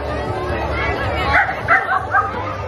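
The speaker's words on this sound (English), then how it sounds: "And the dogs won't shut up." Several dogs at an outdoor pumpkin patch pet costume contest yip and bark in short bursts near the end, over a busy murmur of people chatting nearby.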